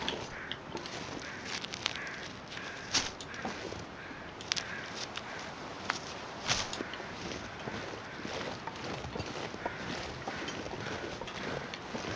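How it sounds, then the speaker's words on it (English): Crows cawing in The Long Dark, a survival video game, heard as a few sharp, scattered calls over steady crunching footsteps and a constant windy wilderness ambience, with no talking. "hear birds."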